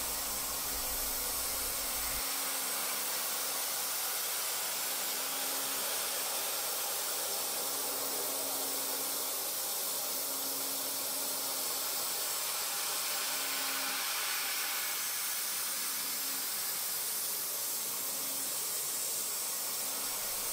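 A Sandvik CoroMill Dura end mill power-mills steel after a 90-degree plunge at 60% radial engagement, producing a loud, steady hiss with a continuous machining whine that holds for the whole stretch, and no voices.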